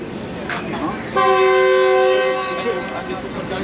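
The Subak Raftar Express pulls away on its run from Lahore to Gujar Khan with a loud blast of its horn lasting over a second, over low rail rumble, and faint voices around it.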